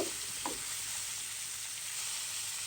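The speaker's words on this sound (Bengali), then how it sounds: "মাছটা এখন উল্টে পাল্টে দিব" Rohu fish frying in oil after being flipped, a dense, even sizzle heard up close, with a brief utensil scrape at the very start and no voices.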